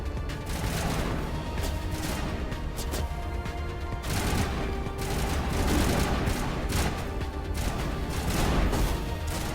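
Dense bursts of gunfire from the Mass Effect video game, rapid shots and impacts layered into a continuous, loud barrage with crashes and booms, no pause across the stretch.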